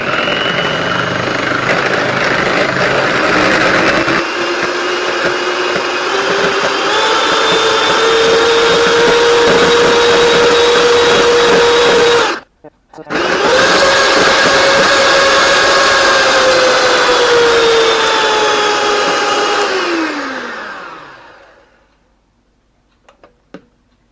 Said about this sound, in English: the egg whites, you want to whisk them until you get firm peaks